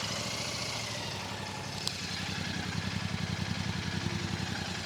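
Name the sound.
motorcycle parallel twin engine running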